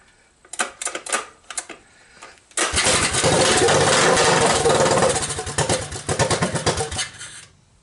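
A 1983 Honda ATC200 three-wheeler with a swapped engine cold starts on choke: a few short cranking bursts, then it catches and runs loud and close, revving unevenly before settling into a choppy idle.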